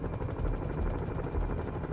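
A continuous rhythmic chopping thump of helicopter rotors in Marvel's Spider-Man on PS4, loud and close, with a dense low rumble and no pauses.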